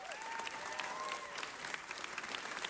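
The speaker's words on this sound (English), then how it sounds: "give yourselves a round of applause" Applause from a city council meeting audience for the LA High team after their championship win, sustained clapping from a crowd with a few cheers and whistles mixed in.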